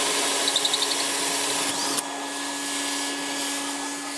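A 3.5-inch hole saw cuts through a boat dashboard, giving a steady, loud whirring grind that runs throughout, with a brief catch and dip near the midpoint before the cutting noise resumes.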